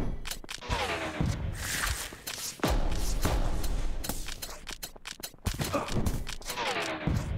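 Rapid bursts of magical barrage fire in the game Chaos Caster, a dense stream of repeated impacts and thumps with sharp louder hits, loud and continuous throughout.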